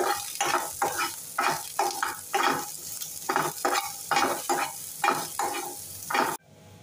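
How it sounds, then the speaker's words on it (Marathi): Chopped onion sautéing in oil in a pan while being stirred, with rhythmic scraping strokes and sizzling bursts repeating about every half second, close and clear, ending abruptly. "सुरुवातीला कांदा घालूया, ते छान परतून घेऊया"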